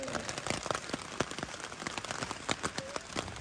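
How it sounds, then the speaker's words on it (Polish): Light rain patters on a tarp shelter at a forest campsite at night, a dense, steady spray of close drops, some hitting more sharply than others, with no talk over it. "Troszkę pada deszczyk."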